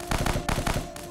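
Gunslinger unit firing in the zombie strategy game Dead Ahead Zombie Warfare, a rapid burst of several loud, close gunshots in quick rhythmic succession with no talk over it.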